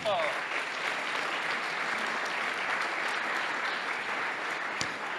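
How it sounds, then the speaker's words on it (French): Sustained audience applause at a housing awards ceremony, a steady, even wash of clapping from a sizeable crowd that holds at the same level throughout, heard at moderate distance in a large hall. "4 programmes que l'on applaudit."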